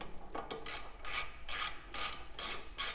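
Motorcycle side panel screws being loosened, heard as a series of short clicking, ratcheting bursts in an uneven rhythm, close and fairly loud, with no voices.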